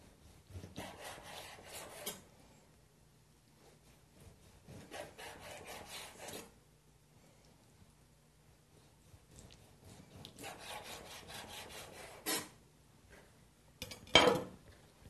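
A very sharp kitchen knife slices through octopus tentacles on a board. Several faint, separate bursts of rasping and scraping come close by, with quiet pauses between them.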